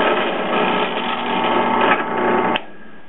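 A Harbor Freight drill press motor whirs steadily with a mechanical hum, then clicks off abruptly, leaving a faint quieter whine.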